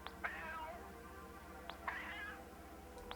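A cartoon cat in the video game Gato Roboto gives two short meows about two seconds apart, clear and close over a low steady game-music hum.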